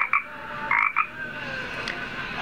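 Croaking frog sound effect played by a Google Home Mini smart speaker: a few short, loud, raspy croaks in quick bursts near the start, then a fainter tonal trailing call, with no talking.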